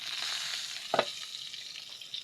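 Pangasius fish frying in a covered pan gives a soft, steady sizzle, with a brief clatter around the middle as the lid is lifted.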